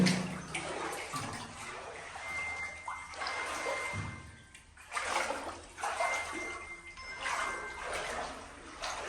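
Knee-deep water sloshing and splashing in bursts inside an underground Shiva temple, echoing in the enclosed space, with faint metallic tinkles between the splashes.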